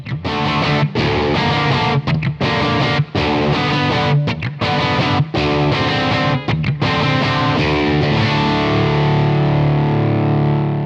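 A distorted electric guitar through a DSM Simplifier X amp simulator on its Vox-style AC Brit setting plays chunky chords and riffs with a warm, crunchy amp tone, loud and continuous, ending on a sustained ringing chord.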